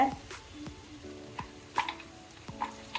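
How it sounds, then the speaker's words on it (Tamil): Mutton for chukka varuval fries with freshly ground roasted masala powder, a low sizzle broken by a few sharp spoon scrapes against the pan at irregular intervals. "இந்த பொடியை போட்டு இந்த மட்டனோட நல்லா பரண்டு வர அளவுக்கு நல்லா வதக்கி விட்டுட்டு"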